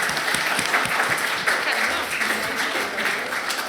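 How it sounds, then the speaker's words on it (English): Audience applause for the panellists at the FORGE 2024 stoicism panel, a steady dense wash of many hands clapping, close and loud, with no talking over it. "Can we give a round of applause for our panellists?"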